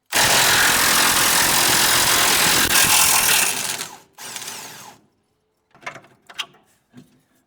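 A loud power tool on a truck's bottom shock mount runs continuously for about four seconds, cuts out, whirs briefly again, then leaves scattered faint clanks and ratcheting.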